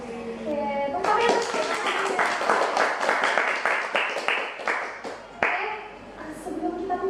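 Audience clapping at a student achievement podcast event, a run of fairly loud, close claps over several seconds with voices talking over and around it.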